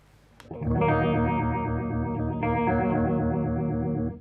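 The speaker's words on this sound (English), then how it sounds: "If you want a faster phaser, you flick it over to there" A sustained guitar chord rings out through a Pastfx (Foxx) foot phaser pedal on its fast setting, its swirling whoosh pulsing quickly for several seconds with no voices.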